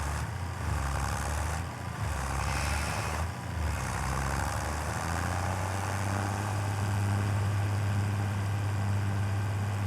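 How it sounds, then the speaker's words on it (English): A John Deere tractor with a John Deere cultivator on the back hums steadily in Farming Simulator 25, a constant low engine drone that holds and thickens slightly with no pauses. "I'm going to go to the John Deere, and he's already got his John Deere cultivator on the back"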